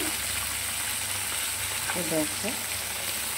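Fish sizzles steadily in hot oil in a home kitchen, a constant, close frying hiss, with a few brief spoken words over it.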